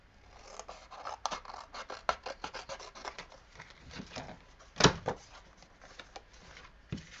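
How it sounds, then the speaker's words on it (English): Paper for a mixed media album is cut with scissors, giving a close series of short snips and rustles in an uneven rhythm, with one sharper louder crunch midway. "so I'm going to cut that piece off."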